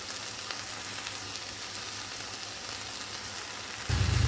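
Amaranth leaves frying with split moong dal in a pan give a steady, close sizzle and crackle that runs without a break, alone and with no voices, swelling louder over the last moment.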